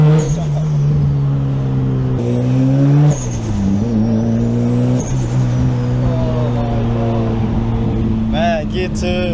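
A Mazda FD RX7 rotary engine with a turbo revs and drops, its blow-off valve hissing sharply as the throttle closes, loud and close from inside the car, with talk throughout.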